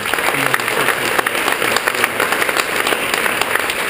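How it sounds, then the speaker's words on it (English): An audience gives a sustained round of applause at a public event in Virginia: thick, even clapping from many hands fills the whole stretch without fading. "Let's give them another round of applause."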